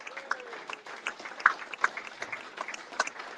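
Steady clapping from fans at a Swindon Town Football Club fans forum as guests are introduced, a small room's worth of applause with a few sharp claps popping above the patter.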